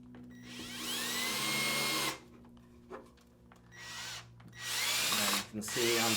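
Power drill driving screws into a wooden lid for a carpenter bee trap, whining in two long bursts with a short blip between, loud and close, each run winding down abruptly.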